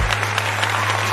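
Recorded audience applause plays as a sound effect, a dense, even patter of many hands clapping politely, with a low steady hum underneath.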